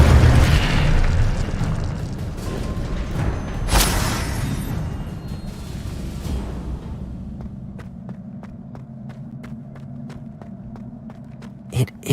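The Incendio fire spell from Hogwarts Legacy bursts with a loud, booming whoosh, followed by a crackling roar that slowly fades into quieter ambience and a few sharp ticks near the end.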